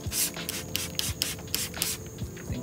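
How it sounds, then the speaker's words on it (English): Cleaner sprayed onto forged BBS wheels for a Mitsubishi Evo X, a series of short sharp hissing spray bursts in an uneven rhythm, close and fairly loud with no talking. "We're gonna go ahead and spray these again."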